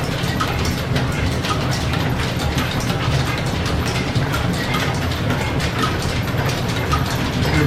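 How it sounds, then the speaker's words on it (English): Steam-powered lineshaft machinery in an old machine shop keeps up a continuous busy clatter of ratcheting gears and belts while lineshaft hangers are threaded, steady and dense throughout with no talking. "Back to machining this batch of lineshaft hangers"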